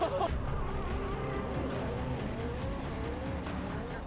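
A drift car loses control during a Formula Drift run, its engine roaring loud and steady throughout with tire noise and a crowd wash beneath.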